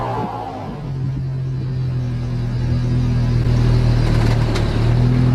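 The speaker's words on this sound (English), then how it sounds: "that's what happens when you burn out a Swisstrax" Car doing a wheelspin burnout on Swisstrax interlocking garage floor tiles, a steady low engine rumble building in loudness with a sustained drone and rising tire hiss, close and continuous.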